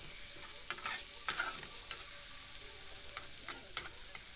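Chopped peppers and onions fry in a pan together, with a soft continuous sizzle broken by several light clinks and scrapes of stirring, fairly quiet and close, with no speech.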